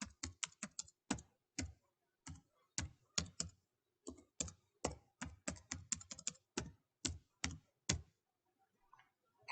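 Crisp computer keyboard keystrokes come in quick irregular bursts with short pauses, close and clear, as a password is entered while setting up a virtual machine; no one speaks.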